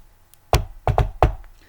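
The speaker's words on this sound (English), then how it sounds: "When they knocked on the door of the gamekeeper's hut an hour later" Knocks on the wooden door of a gamekeeper's hut: a single firm rap, then a quick double knock, then another single rap, close and solid with no voices.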